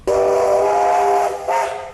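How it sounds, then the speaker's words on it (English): The Kingston Flyer, steam locomotive AB795 of Central Otago, sounds its whistle in one long, loud, steady blast, then a shorter second toot after a brief gap. "One of the 2 engines belonging to Central Otago's iconic steam train, the Kingston Flyer, was stoked up on Sunday."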